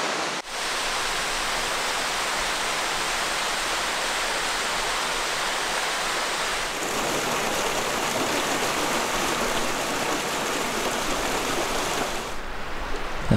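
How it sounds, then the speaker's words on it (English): Rushing floodwater at the confluence of Young's Canyon and Dark Canyon in the desert, a dense, steady roar heard from above, loud and unbroken for the whole stretch with a slight shift in tone partway. "Listen to all that water down there."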